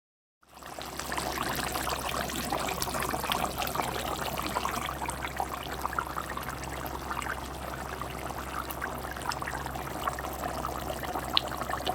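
Water is poured in a steady, continuous trickle into a pan of hilsa fish pieces for mustard curry, a close, even stream lasting the whole stretch with no talking.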